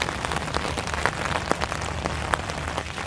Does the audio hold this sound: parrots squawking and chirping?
no